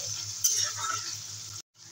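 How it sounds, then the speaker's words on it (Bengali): Spice paste of cumin, ginger and garlic sizzling steadily in a hot pan, a continuous close frying hiss with a brief stirring scrape, cutting out abruptly near the end. "মশলাটাকে 2 মিনিটের মতো একটু কষিয়ে নেব"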